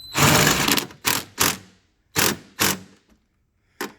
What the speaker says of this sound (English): Now I'm going to go ahead and use the swivel with the 13 millimeter to get this